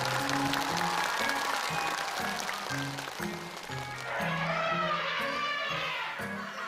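Studio audience applause, a dense sustained clapping that fills the clip at an even level, with rhythmic thumping music underneath and no clear speech.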